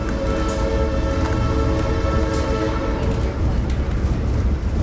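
A train rumbles past on the Skagway railway line, a heavy, continuous low-pitched roar with steady wheel and car noise close by throughout.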